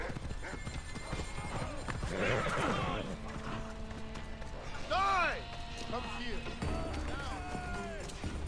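A horse in Assassin's Creed Odyssey clops along with a rhythmic trot and neighs loudly, heard up close amid game battle noise and voices.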